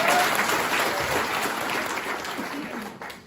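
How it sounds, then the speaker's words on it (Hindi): An audience in an indoor training seminar hall applauds steadily, a dense, sustained wash of clapping that holds at an even level for the whole stretch, without speech over it. "ताली बजाओ प्रभु सर की।"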